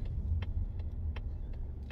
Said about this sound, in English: So I'm driving the Mazda CX-30